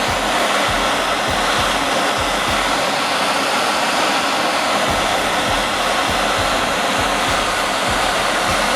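Torch flame heating a copper pipe for a bracelet, a steady, close, loud roar that holds unbroken throughout with faint low thumps beneath, no talking.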